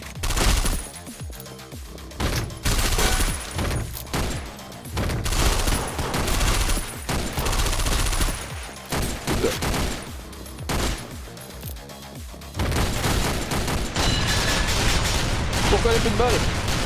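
Bursts of rapid video-game gunfire rattle in repeated volleys, loud and close, with short pauses between them and a voice talking now and then.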